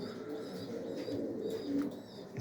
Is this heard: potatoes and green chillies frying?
no